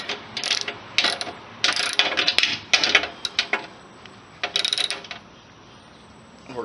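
A ratchet with a 1/2-inch socket tightens a bolt on a zero-turn mower draw bar, giving several close, loud bursts of rapid clicking with short pauses between strokes, then quiet near the end.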